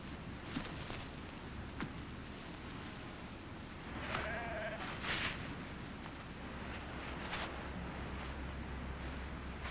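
A ewe and an orphan lamb in an upland shed where fostering takes place; one brief bleat stands out over a faint background of rustling and wind.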